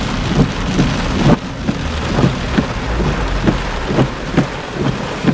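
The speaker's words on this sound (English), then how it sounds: "I think Mother Nature knew we needed the rain, but she gave it to us all at once." Heavy rain pounds down steadily during a severe summer thunderstorm in Cambridge City, Indiana, with a sudden loud burst early on and low thunder rumbling beneath the constant downpour.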